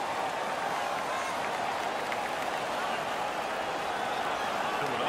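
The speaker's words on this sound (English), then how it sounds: "Their man's won the fight. The crowd is ecstatic." The arena crowd roars after a hockey fight in the NHL 18 video game, Toronto versus Philadelphia, as a dense, steady wall of cheering and applause under a commentator's talk.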